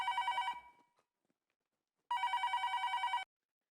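A telephone bell rings in two bursts with a pause between them, each a rapid trilling ring that is clear and close with no talk over it.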